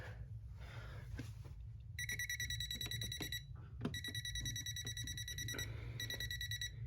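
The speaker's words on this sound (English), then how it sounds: "this thing will beep if there's power going to it." An electronic voltage tester at an electrical outlet gives off steady high-pitched beeping in repeated bursts, broken by brief pauses, over a low background hum.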